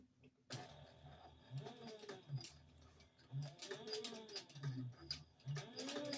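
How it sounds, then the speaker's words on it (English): A sewing machine stitches back and forth over string laid on fabric, quiet rhythmic bursts of needle clatter in short repeated runs with brief pauses between them. "we'll sew back and forth over the top of the string several times"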